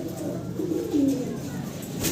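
A pigeon coos softly in a low, warbling tone, a short throaty call in the middle, over a faint background hum.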